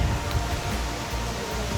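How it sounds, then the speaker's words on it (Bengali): Rain pours steadily at a rural village-style resort in Subornogram, a loud, dense, continuous wash of falling water with low rumbling underneath and no one talking. "এখন হচ্ছে বৃষ্টি নেমে গেছে আপনারা দেখতে পাচ্ছেন পিছনে"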